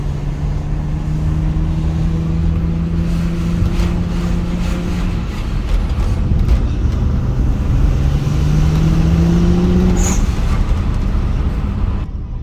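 A BMW 135i E82 with the N54 engine on a test drive after rear suspension work: steady interior road and engine drone with slowly rising and falling engine tones as it accelerates and shifts, with no talking.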